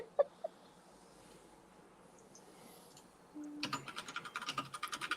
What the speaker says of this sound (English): Somebody's good at typing. Yeah, bloody quick typer.